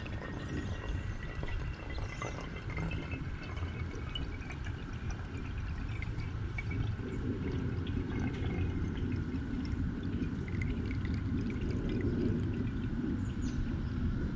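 Sumac-infused water poured through a filter makes a steady, continuous trickling splash, close and moderately loud, running unbroken for the whole stretch with no talk over it.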